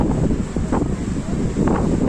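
Strong wind at the seashore in Digha buffets the microphone in a steady roar, with faint rushing surf underneath and brief gusts rising and falling.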